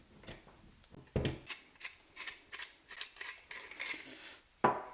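Small screwdriver work on a KWA M4 airsoft gearbox: a series of quiet metallic clicks and scrapes as a screw is turned out, irregular ticks close up with a sharper knock at the start and end.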